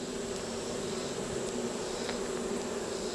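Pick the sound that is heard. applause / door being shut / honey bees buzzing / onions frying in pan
honey bees buzzing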